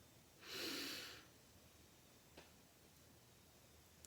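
A single deep breath drawn in through the nose, a soft airy rush lasting under a second, close and quiet, followed by near silence with a faint tick.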